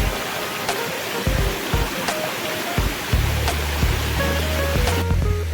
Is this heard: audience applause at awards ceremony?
no